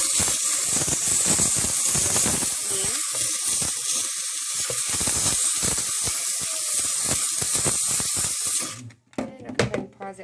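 A McCulloch MC1385 deluxe canister steam cleaner hisses out a steady spray of steam for several seconds, loud and close, with faint clicks and handling noise beneath before it cuts off and a voice begins.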